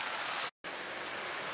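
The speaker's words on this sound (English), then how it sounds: "the rain's actually coming on the camera now as well, and I'm inside the bivvy" Rain drums steadily on a fishing bivvy at a carp fishery, a close, dense hiss that cuts out for a moment and then carries on.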